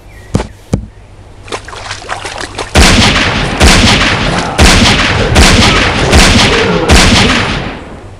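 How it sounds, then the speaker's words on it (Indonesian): Sniper rifle shots ring out in the mobile survival game Westland Survival during a crocodile hunt: a couple of sharp cracks, then several heavy booming reports spaced about a second apart over steady background noise. "Oke sini kita pakai sniper aja."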